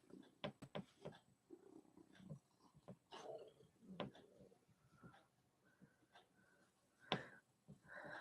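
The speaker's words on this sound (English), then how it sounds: "Oh, and there's a very purry Tippy showed up." A cat purrs close by, a soft rumbling with irregular breathy pulses and small snuffles, faint and intimate against a quiet room.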